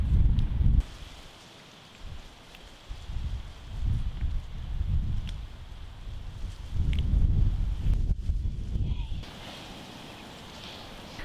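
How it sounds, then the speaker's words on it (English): Wind gusts and rain buffet a vegetable garden on a gloomy day, rough blustery rushing that swells and drops in waves, close to the microphone, with no one speaking. "I do think that's about all the wind and rain I can tolerate for one session"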